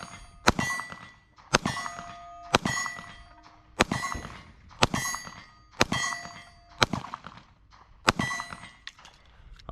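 Smith and Wesson Shield Plus pistol firing 124 grain Aguila rounds one-handed at a range, about seven sharp, loud shots at a steady unhurried pace, each followed by a metallic ring of steel targets.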